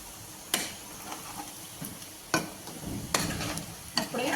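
Chicken pieces fry in a pan for chicken pickle, a steady close sizzle broken by several sharp scraping stirs of a spoon against the pan. No one speaks.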